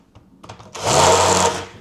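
A drill boring full-depth pilot holes into brittle reclaimed oak timber for a planter, a steady close whir that spins up and holds for about three quarters of a second before winding down, with no talk.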